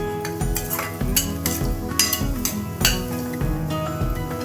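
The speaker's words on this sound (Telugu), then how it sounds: "కలిపేసేసుకుందాం." A spoon stirs onion and turmeric in a pan, scraping and clinking against the metal in repeated strokes over music.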